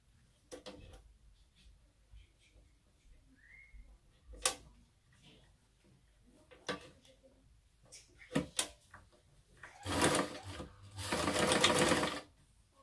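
Sewing machine stitching several seams 1 cm in on a reusable fabric face mask, two loud whirring runs near the end after quiet handling clicks and thumps.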